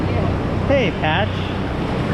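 Ocean waves washing up on Cardiff State Beach, a steady broad wash of surf with wind noise, while a few brief whistling or squealing vocal sounds cut through the middle.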